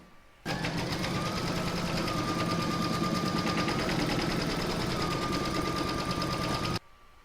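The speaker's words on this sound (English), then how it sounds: "Next we're going to stitch round number 10, and that's going to do the channel for the drawstring." A sewing machine runs steadily for about six seconds, stitching a drawstring channel on a fabric canning jar cover, a continuous close mechanical whir with fast rhythmic needle chatter and no talking.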